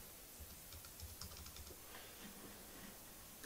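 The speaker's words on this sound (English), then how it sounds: "So I'm about to type my password in now." Faint, soft keystrokes as a password is typed on a 2011 21.5-inch iMac keyboard, a quick irregular patter of light taps over a quiet background hiss.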